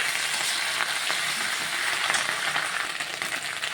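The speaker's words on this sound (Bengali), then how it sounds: "পাতাটা দিয়ে ভালোভাবে নাড়াচাড়া করবো" Leaves are stir-fried with garlic, producing a lively, continuous sizzle and crackle with faint tossing sounds, close and fairly loud.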